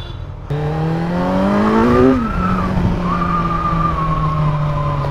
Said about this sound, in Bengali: চাকাটা হুইল স্পিন হলো মনে হয় এখনই।